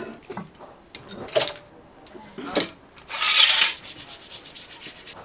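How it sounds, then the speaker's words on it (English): A clamp is removed from glued wooden tabletop planks, giving a few dry rubbing and scraping bursts that end in one longer, louder rasp, close and alone. "let's see what happens if we remove the clamp"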